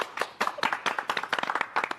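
A small crowd at an informal ribbon-cutting breaks into brisk clapping, a quick steady patter of many hands heard close and clear, with no talking over it.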